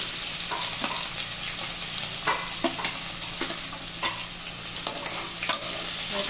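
Chilies and then onions frying in hot oil in a home kitchen pan, a steady close sizzle with bright crackling pops and occasional stirring scrapes, no talking.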